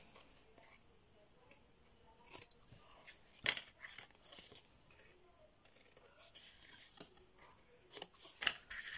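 Scissors snipping along paper edges for a scrapbooking page, a series of faint, quiet crisp cuts spaced irregularly in a calm room.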